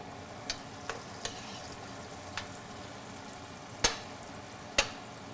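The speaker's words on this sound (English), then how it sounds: "once the butter starts melting, we're going to add the rice in. We're going to allow that rice to get toasted." Rice toasting in melted butter in a pan for risotto, giving a steady low sizzle with a few sharp clicks of a spoon or pan, close by and with no talk.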